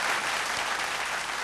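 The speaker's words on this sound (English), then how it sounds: "Another round of applause" An audience at a live vocal competition show applauds in a dense, even wash of clapping that holds steady for a brief moment.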